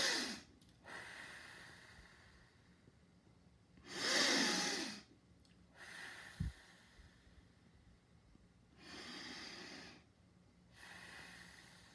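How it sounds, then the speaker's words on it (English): Three slow, deep breaths, each a long, close airy inhale and exhale separated by short quiet pauses, with a brief soft knock in between. "3 deep breaths."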